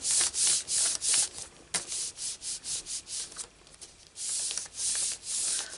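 Paper over a stamped image on a card being rubbed by hand, a close, loud rhythmic swishing in quick back-and-forth strokes with short pauses between bursts.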